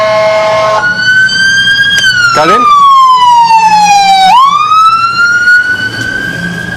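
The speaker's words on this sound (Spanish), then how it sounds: "los sonidos de la ambulancia." An ambulance siren wails loudly and close by, its tone sweeping down and back up in long continuous glides, with a brief voice heard over it.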